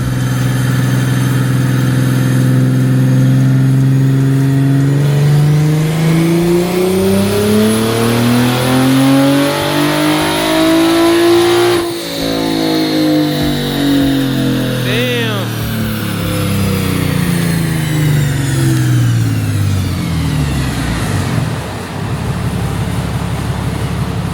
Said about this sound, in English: my car is on the dyno right now